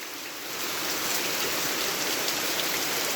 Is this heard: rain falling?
yes